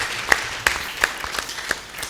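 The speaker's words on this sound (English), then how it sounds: "I didn't hear a big enough clap" Audience applause at the launch of the 2018 Nigeria humanitarian response plan, a short burst of scattered hand claps from a modest crowd, fairly close with distinct individual claps.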